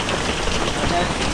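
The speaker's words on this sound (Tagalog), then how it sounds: "Sana ulan lang, wag lang yung hangin mga kabungot para safety yung mga bubong ng mga bahay dito." Heavy rain pours during Typhoon Opong, beating near a hut in a steady, dense patter with no let-up across a brief stretch.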